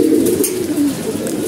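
Pigeons kept by a small-scale fancier coo in a steady, overlapping murmur, close and fairly loud, with no voices.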